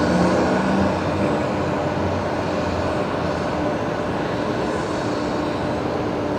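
Broadband jet engine roar of a Qantas Boeing 737 with retrofitted split scimitar winglets at Brisbane Airport, steady and fairly loud throughout with no talk.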